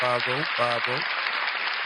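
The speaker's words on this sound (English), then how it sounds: "So let's round of applause." A round of applause rises as a dense, steady patter of clapping that fills the clip, with a brief voice sounding over its first second.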